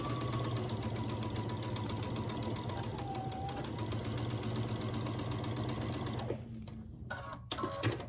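A sewing machine runs a quarter-inch quilt seam in one steady, continuous mechanical whir, close and even, before stopping near the end with a few small handling clicks.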